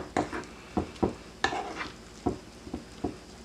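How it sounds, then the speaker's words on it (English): PB powder is mixed into a vegan breakfast mixture with a spoon, giving a series of close scraping and tapping clinks against a bowl, about eight uneven strokes, with no talking. "So you go ahead and mix that in"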